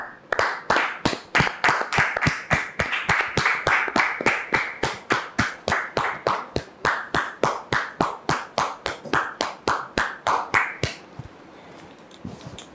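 A studio audience on a French-language television mediation show claps in unison to welcome a guest, loud rhythmic beats keeping a steady tempo for about eleven seconds before stopping abruptly into quiet room tone.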